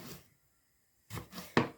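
A kitchen knife slices through an eggplant stem on a cutting board, giving a few close, crisp cuts in quick succession after a short pause.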